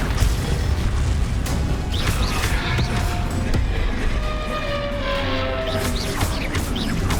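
Spell blasts boom and crackle during a Hogwarts Legacy fight against a troll-like enemy, forming a dense, continuous barrage of loud bursts with a rumbling low end, while a player speaks over the combat.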